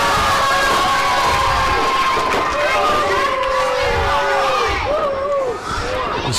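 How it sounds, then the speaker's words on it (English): Loud wrestling arena crowd cheering and roaring during a tag team match, a dense continuous wall of shouting and whistles with a commentator's voice running over it. "This crowd is absolutely on fire for this match."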